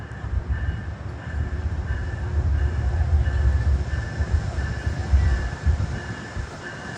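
A Metro-North commuter train bound for Danbury rolls into Harlem 125th Street station on a freezing evening, a steady low rumble of wheels and engine with a faint tonal hum, building slightly then easing.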